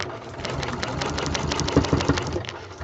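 A sewing machine stitches a log cabin quilt block, running in a rapid steady mechanical patter, close and moderately quiet, for a few seconds.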